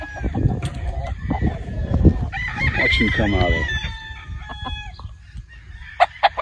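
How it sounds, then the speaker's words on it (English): Chickens clucking and a rooster crowing at a farm, close and fairly loud, with someone talking over the birds and sharp clucks near the end. "Man, I love these chickens."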